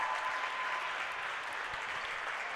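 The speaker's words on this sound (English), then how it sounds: "The celebration, clapping," Steady applause from a crowd at a high school girls' basketball game, celebrating a player reaching 1,000 career points; dense continuous clapping fills the gym with no speech.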